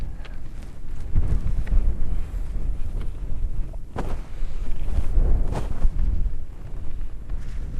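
Wind blows outdoors at a campsite where dinner is cooked on a Trangia stove, a continuous loud rushing that buffets the microphone in heavy gusts throughout, with no speech.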